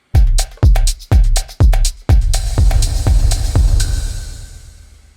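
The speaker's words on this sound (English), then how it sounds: "the tail is still going to echo out or delay out" A DJ mixer's post-fader echo and delay effect: a few punchy beats hit in quick succession, then the sound trails off into a repeating echo tail that slowly fades out once the volume is lowered. No one speaks.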